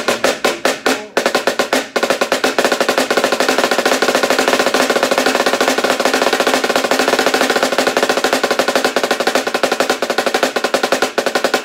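Snare drum playing the single ratamacue rudiment, a dense, continuous run of fast alternating strokes with accents, loud and close, heard alone after a few separate opening hits.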